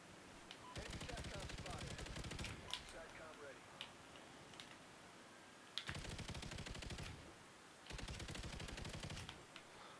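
Rapid bursts of LSAT light machine gun fire in Call of Duty: Ghosts, loud and close, in several long sustained strings separated by short pauses, with faint game sounds and voices underneath.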